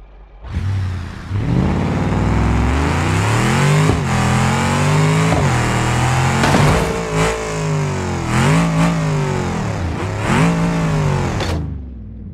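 A Mercedes G-Wagon engine in the BeamNG.drive driving game revs loudly and continuously, its pitch climbing and dropping repeatedly through several gear shifts for over ten seconds before fading.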